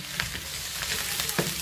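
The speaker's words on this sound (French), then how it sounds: "Et là, je mets mes champignons. Voilà, et là, je mélange le tout." Mushrooms and onion sizzle in a frying pan while being mixed, a close continuous hiss punctuated by a few quick scrapes of the stirring utensil, no voices.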